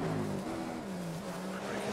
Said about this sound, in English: I'm braking a little bit earlier for that.